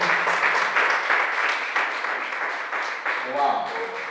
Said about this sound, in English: A better round of applause for him.